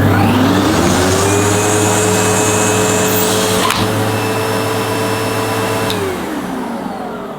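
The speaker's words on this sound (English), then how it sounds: "Let's see if the hose retraction works." A Sebo Automatic XP10 upright vacuum cleaner running loud and steady with a whining motor drone while its hose retracts, a brief clunk partway through, and the pitch dropping as the motor slows near the end.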